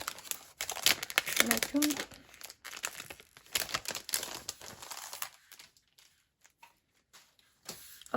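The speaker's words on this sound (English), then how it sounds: "This is the large paper pad." A large paper pad handled while unboxing a craft supply box, with sheets crinkling, rustling and flapping in close bursts, alongside a person speaking briefly before the handling trails off into quieter, scattered rustles.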